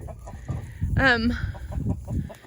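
Free-roaming chickens, hens and roosters on a Nebraska farm in winter cluck and murmur close by, with one louder drawn-out squawk rising above the chatter near the middle.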